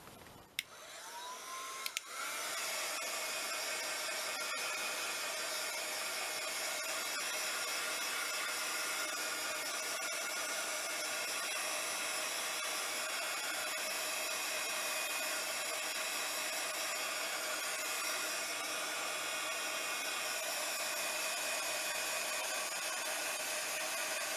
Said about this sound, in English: I'm just going to quickly do with my heat gun here.